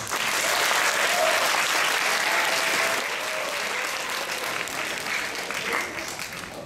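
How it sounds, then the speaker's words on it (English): Sustained audience applause, a dense, steady wash of clapping from a large crowd that stays loud throughout and eases slightly toward the end. "please give me a big round of applause"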